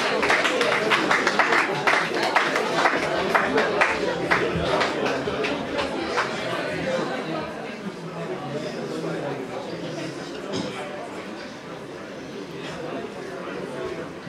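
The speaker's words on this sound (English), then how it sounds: "A round of applause for Oyo." An audience applauds a teen contestant at a Nigerian male pageant, steady dense clapping from a sizeable crowd that starts loud and eases slightly over fourteen seconds, with no talk over it.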